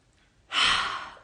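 After a quiet moment, a single deep breath is drawn in, a close, breathy airflow lasting under a second.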